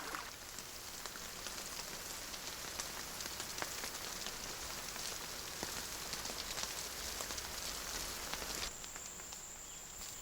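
Heavy rain pouring steadily on the Amazon rainforest, a dense hiss of drops striking leaves with scattered sharper drips, continuous and close, with an insect whine joining near the end.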